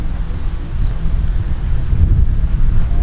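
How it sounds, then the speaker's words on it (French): Strong wind gusts roar across an outdoor microphone at an outdoor competition, a loud, rumbling buffeting that swells and dips continuously with no talk. "Wow, le vent du siècle."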